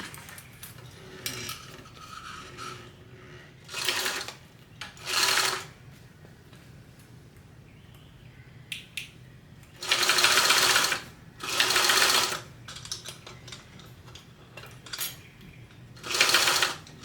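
Sewing machine stitching a 1/8 inch seam on fabric in short loud runs, two brief bursts early, then two longer ones and a final short run, with quiet fabric handling between.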